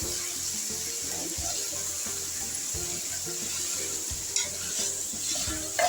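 A pan of cluster beans, potato, carrot, tomato and green beans for a mixed vegetable curry is stirred steadily, a spoon scraping in a repeating rhythm over a constant loud sizzle, close up with no talking.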